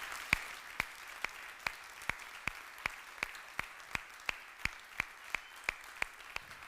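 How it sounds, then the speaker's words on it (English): Applause for volunteers at a startup incubator's demo day, heard as sparse, evenly spaced single claps at a steady beat. The claps are faint and distant, with no voices over them. "So I would like you to join me and give them a big round of applause."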